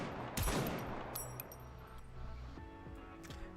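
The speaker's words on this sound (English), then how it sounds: "As if sensing their presence has been revealed, gunfire rains down from the other side." Gunfire crackles in the Nikke video game, with a sharp burst of rapid shots, metallic clinks and several further scattered shots over a faint, ringing background, all fairly quiet and with no talking.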